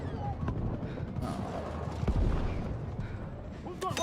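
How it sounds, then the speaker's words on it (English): Battlefield 6 explosions on the Wake Island map, a dense rumbling barrage of blasts and booms with a heavier impact near the middle, with speech mixed in. "Dude, everything's just blowing up."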